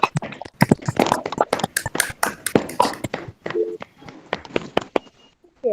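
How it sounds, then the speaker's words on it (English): Audience applause at a National Youth Day celebration, a burst of scattered clapping for about three seconds that thins into a few sparse claps before fading out. "give them a big applause."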